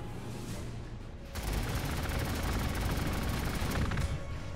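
An aircraft attacks in the Warhammer 40k Gladius strategy game, and a quieter rumble suddenly gives way to a dense, rapid burst of gunfire-like rattling that stays loud and sustained to the end.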